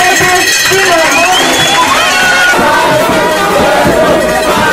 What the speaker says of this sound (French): a été suivi des applaudissements, cris de joie et pas de danse de la foule